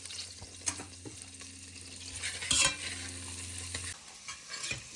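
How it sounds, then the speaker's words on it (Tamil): Garlic cloves fry in melted butter in a pan with a steady low sizzle, punctuated by scraping stir strokes and a brief louder crackle burst partway through. "இந்த 4 உள்ளியையும் இந்த பட்டரில் போட்டு சாதுவாக வாட்டி எடுப்போம்."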